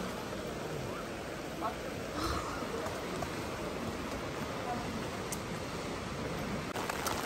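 Constant broadband patter of rain in Busan, steady and close, with brief faint sounds in the background and no clear talking.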